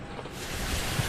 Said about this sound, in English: the roar of the LA River